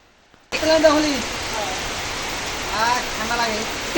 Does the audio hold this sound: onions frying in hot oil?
no